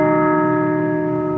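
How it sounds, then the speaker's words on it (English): A historic church-style bell rings out loud and close, one sustained metallic tone with steady ringing overtones that hold without fading. "I am going to ring the bell."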